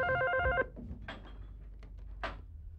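A telephone rings with a steady electronic trill for about half a second, then stops, leaving a quiet room with a few faint knocks and rustles.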